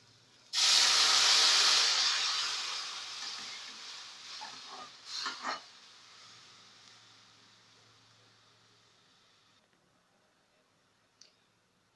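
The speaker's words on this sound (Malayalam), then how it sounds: "ഇതിലോട്ട് നമുക്ക് ആവശ്യത്തിന് വെള്ളം ഒഴിച്ചു കൊടുക്കണം." Water poured into a hot pan of roasted semolina while making Kerala-style rava upma bursts into a loud steamy hiss. The sizzle fades gradually over several seconds, broken by a few sputtering crackles.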